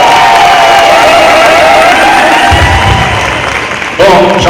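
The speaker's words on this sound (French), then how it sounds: "Est-ce qu'on peut applaudir Jean-Claude?" A crowd at a municipal New Year staff ceremony in Bouillante claps and cheers, a dense continuous wash of applause close and loud, with a voice over a microphone joining near the end.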